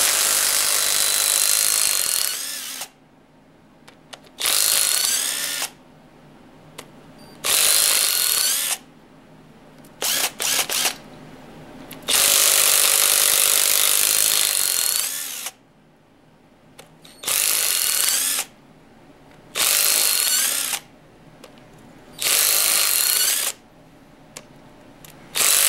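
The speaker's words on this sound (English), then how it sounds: "We just broke that loose with this little DeWalt half-inch drive." A small DeWalt half-inch drive power tool breaks loose bolts on a 1978 Chevy Camaro 350 engine in repeated loud whirring bursts of a few seconds each, separated by quiet gaps, about eight bursts in all.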